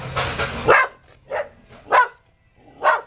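A dog barks several times in short, sharp bursts, close by, with brief gaps between barks and a quieter whimpering sound in between.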